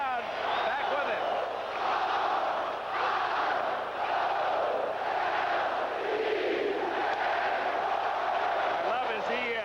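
Baseball stadium crowd cheering and roaring for Wild Bill Hagee at a 1979 ALCS game, a dense, sustained wall of voices that swells and holds steady for the whole stretch.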